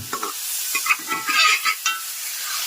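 Snake gourd and lentils tipped into a hot tempering pan in a Kerala village kitchen, giving a sharp sizzle with bursts of frying crackle and stirring scrapes over about three seconds, close and fairly loud.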